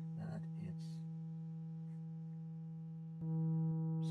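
A steady sine-wave oscillator tone from an Ekdahl Polygamist analog synthesizer sustains throughout, with brief speech-like sounds near the start, then swells louder and richer in harmonics near the end.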